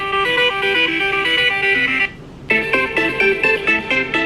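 An iPhone XR ringtone plays through its speaker as a bright, repeating melodic chime, pausing briefly before the tune starts again, loud and close.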